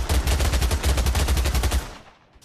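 Rapid automatic gunfire in the VR game Pavlov: a dense, loud, steady burst of evenly spaced shots lasting under two seconds, then cutting off into a fading tail.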